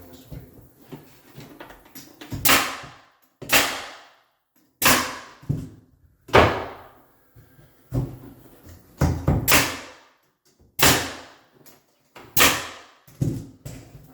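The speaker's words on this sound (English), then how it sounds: "I'll nail it first on this door jamb so it doesn't push the door jamb this way" Nails driven through baseboard into a door jamb during trim installation, a series of sharp, loud, close shots about every second, with quiet gaps between them.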